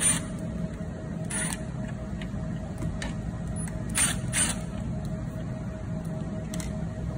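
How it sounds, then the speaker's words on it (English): Faint, intermittent ratchet clicks come as bolts are removed from the controller cover of a Tennant Nobles T7 ride-on floor scrubber. The clicks arrive in short bursts over a low, steady background hum. "remove the bolts from the computer controller cover"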